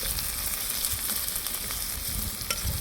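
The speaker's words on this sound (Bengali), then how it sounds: "আমি এখন পেঁয়াজটাকে ভেজে নেব বাদামি করে" Chopped onion with cumin seeds and bay leaf frying in oil in a wok, a loud, continuous close-up sizzle with a busy crackling texture and faint scraping of stirring.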